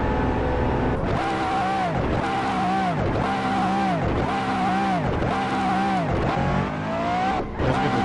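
A million-dollar race car in Assetto Corsa revs hard through repeated gear changes in a steady rising-and-dropping cycle, loud and continuous, as the driver works to warm the tires during practice laps.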